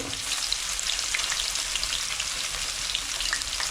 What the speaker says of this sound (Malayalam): ആദ്യം നമ്മൾ ഇഞ്ചി ഇടുന്നു ഇഞ്ചി വെളുത്തുള്ളി ഇഞ്ചി വെളുത്തുള്ളി